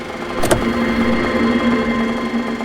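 A car engine running steadily as the car pulls away, a close, even mid-pitched hum with a brief sharp click near the start and no speech.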